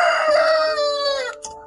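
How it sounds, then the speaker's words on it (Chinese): A young rooster crows once, a loud, near cock-a-doodle-doo with a wavering, slightly strained tail that trails off, followed by a brief faint cluck. "小公鸡在不停的叫"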